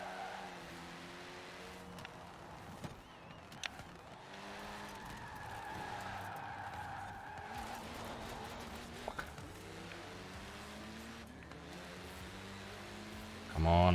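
Peugeot car in the Forza Horizon 4 racing game skids with a steady engine drone and shifting tire squeal, held at even loudness for the whole stretch, ending on a louder burst.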